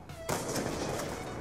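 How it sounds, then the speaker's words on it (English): Shotgun fire in the video game Black Ops 2: one sudden loud blast at the start, then a dense crackling burst of gunfire that holds steady for the rest of the moment. "I'm gonna get fucking blown away by a shotgun."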